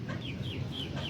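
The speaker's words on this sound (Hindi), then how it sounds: "अब मुर्गियां भी हमारियां लड़ाई करती हैं" Hens clucking and squabbling in a backyard coop, repeated agitated squawks and clucks close by, continuous through the clip.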